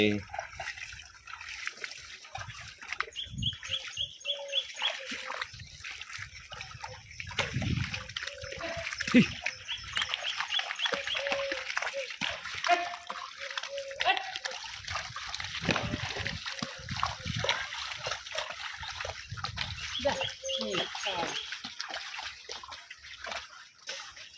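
Floodwater spilling out of a pond runs past a house doorstep with trickling, splashing and sloshing, heard close and fairly soft while people talk intermittently over the flow.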